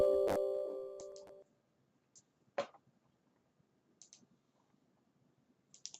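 Sharp, isolated mouse clicks on a computer, a few single and double clicks spaced irregularly after a brief louder tone at the start, close and quiet with no talking.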